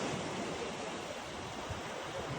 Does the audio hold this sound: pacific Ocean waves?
yes